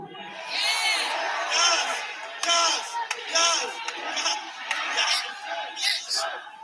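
Wrestling arena crowd at an AEW Dynamite event, a loud sustained roar of many voices with swelling chants and cheers rising and falling throughout, drowning out everything else.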